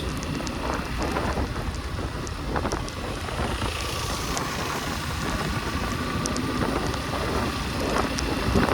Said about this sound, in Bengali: এই বৃষ্টিটা আবার শুরু হলো